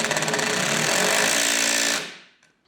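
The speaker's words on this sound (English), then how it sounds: "So you can hear there, as soon as I started to torque, the screw actually started to speed up." A Würth M-Cube 18V cordless impact driver drives a screw, a loud rapid hammering rattle that runs steadily for about two seconds, then cuts off and fades quickly to silence.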